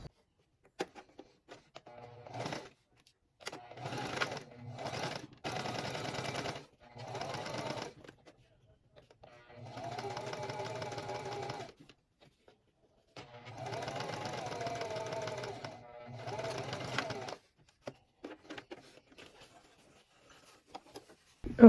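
A sewing machine stitches a peplum top in several bursts of steady mechanical whirring, each several seconds long and separated by pauses with faint handling clicks, close and fairly quiet.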